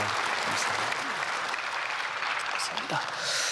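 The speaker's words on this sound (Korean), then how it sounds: "우리 크게 박수로 환영하겠습니다." A church congregation at a Sunday service claps warmly to welcome newly registered members, a steady, full round of applause filling the hall with a few faint voices beneath it.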